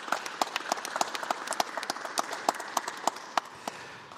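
A live audience applauds after a musical performance in a church-parish radio broadcast, a dense, steady patter of many hands clapping at moderate distance, with no voices over it.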